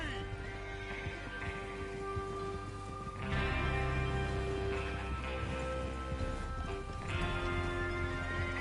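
Horses trot with steady clip-clop hoofbeats in the video game Red Dead Redemption 2, over a continuous ambient background, the sound swelling louder partway through, with no talking.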